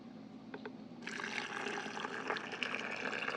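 Steaming hot water pours into canning jars of beans before pressure canning, a soft trickle that swells into a fuller, louder splashing gush partway through and holds steady without any speech.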